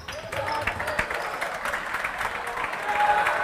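A crowd at a boys' JV high school basketball game applauds and cheers in a gym, a steady roar that swells toward the end, with a commentator talking over it.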